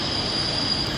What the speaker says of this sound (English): And here comes my train now, see?